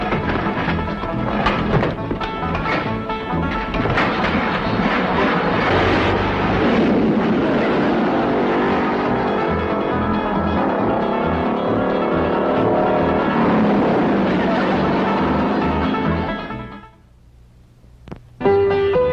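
A car engine fires up and roars as the vehicle pulls away, a loud, dense rumble sustained for most of the span before cutting off abruptly, followed by a brief quiet and a short thump.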